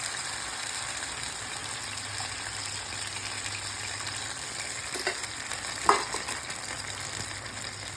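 Tamarind mixture sautéing in a pan gives a quiet, steady sizzle, with a few soft stirring scrapes partway through and no voices.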